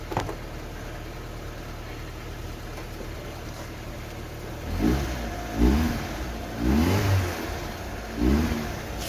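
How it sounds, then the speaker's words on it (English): A cold Hyundai Getz 1.3 12v engine idles steadily, then is revved in four short, separate bursts that rise and fall back to idle, close and fairly loud. "let's give it a few revs"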